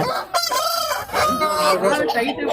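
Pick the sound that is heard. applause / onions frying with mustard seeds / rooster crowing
rooster crowing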